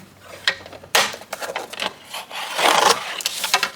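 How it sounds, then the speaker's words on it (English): Paper being cut and trimmed for a junk journal, close scraping and slicing strokes with soft rustles, one sharp onset followed by a longer rasping cut near the end. "I need to trim that little bit off the bottom there"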